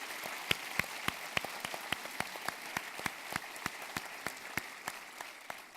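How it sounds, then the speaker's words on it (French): Sparse, scattered hand claps from a small audience at a local show-committee launch in Dolbeau-Mistassini, a few sharp individual claps spaced out over a quiet room, fairly faint and thin rather than a full ovation. "Alors, une bonne main d'applaudissements."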